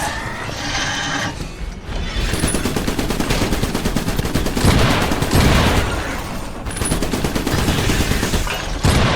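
Rapid, continuous machine-gun fire in the mech video game Iron Brigade, loud and sustained with dense rattling bursts and occasional booms, almost no talk.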